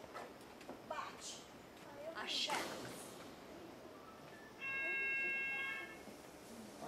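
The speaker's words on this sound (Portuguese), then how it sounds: "Que isso? Disparou o alarme." An alarm goes off in steady electronic tones partway through, heard from a moderate distance outdoors amid background noise.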